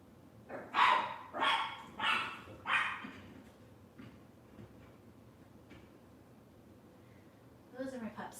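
Several pet dogs bark indoors, four loud barks in quick succession, followed by quieter scattered yips and a final short burst near the end.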